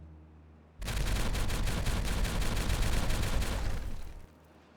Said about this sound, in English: Let's make a grand old explosion.